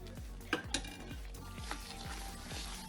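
A spoon stirs milk and jaggery in a pot over a low flame, giving soft scraping strokes and a few light metallic clinks against the pan, quiet and close.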